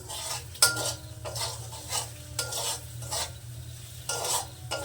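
Potato curry masala fried in oil, a spoon scraping and clinking against the pan in repeated stirring strokes over a steady low sizzle, close and moderately quiet, with no talk.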